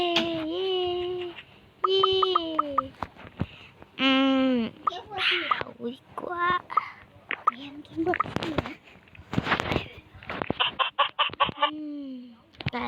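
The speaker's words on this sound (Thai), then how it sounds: "น้องไก่เบาๆสิ เสียงดังเด็ดเลย" A chicken clucks and squawks loudly and close by in a series of sharp, rising calls, with people talking and laughing in between.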